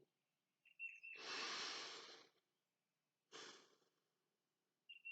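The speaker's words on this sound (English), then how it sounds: "notice if they can hear themselves audibly breathing" Two audible breaths during a body scan meditation, a long exhale followed by a shorter one after a pause, close and soft, with faint high chirps at the edges.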